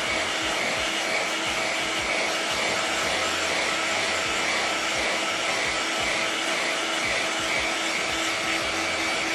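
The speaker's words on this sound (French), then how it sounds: "Le sèche-cheveux, c'est vraiment très rapide." A hair dryer blows steadily at close range, drying paint on an ABS RC car body, a continuous even whirring hum with no talk over it.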